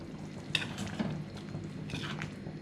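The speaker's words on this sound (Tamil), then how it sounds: "குழம்பு நல்லா மிக்ஸ் பண்ணி விட்டுருங்க." Spoon scraping and stirring egg curry in a pan, a few soft clinks and scrapes over a faint simmering hiss, close and fairly quiet with no talk.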